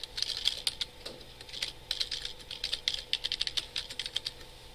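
Quick, uneven keystrokes clatter on a computer keyboard as an email address is entered, a steady run of close, crisp taps with short pauses and no voices.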